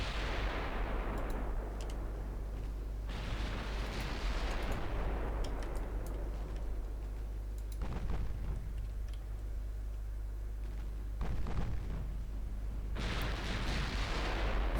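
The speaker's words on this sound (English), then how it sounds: "Victoria is firing her secondary weapons." Secondary guns on a warship firing in the naval game Ultimate Admiral Dreadnoughts: repeated booming volleys over a constant low rumble, with sharper bursts landing every few seconds.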